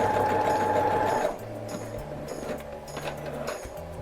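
A sewing machine stitches a small doll dress for a Blythe doll, with a steady, loud whir of stitching for the first second before dropping to quieter intermittent mechanical clicks and hums.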